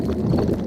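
Cartoon stomach-rumbling effect for a hungry Daddy Pig in a Peppa Pig episode: a steady, low, gurgling rumble that runs the whole short moment without speech.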